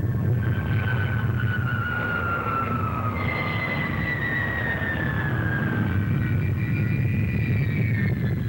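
Fairey Rotodyne compound gyroplane at the Farnborough air show, a steady loud engine and rotor roar with a whining tone that slowly falls and rises in pitch, continuous throughout.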